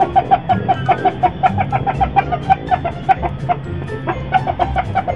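Rapid, repeated high-pitched peeping of chicks calling for the mother hen, over a busy farmyard background with some clucking.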